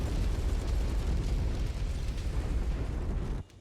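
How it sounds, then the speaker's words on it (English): A Locust mech blown apart by a light rifle in MechWarrior 5, heard as a sustained, loud rumbling blast that roars continuously for over three seconds before cutting off abruptly. "Blew up the locust with the light rifle."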